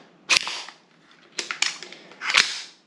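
Three sharp mechanical snaps from a Tokyo Marui M4A1 MWS gas blowback airsoft rifle dry-firing on an empty magazine, each crack followed by a short rattling decay, spaced about a second apart, close and fairly loud with no talking.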